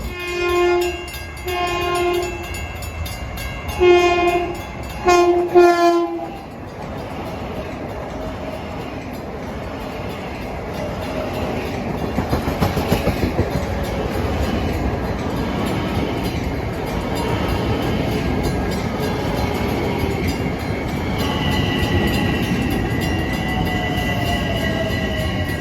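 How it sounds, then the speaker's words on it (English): Two LIRR M7 electric commuter trains arrive at Farmingdale station on the Penn Station to Ronkonkoma run. Loud repeated horn blasts come first, then a long steady roar and rumble of the train rolling in close by, with a rising motor whine near the end. "The gates are going down on Secretog Avenue for train 1062 from Penn Station to Ronkonkoma with a brace of M7s rushing"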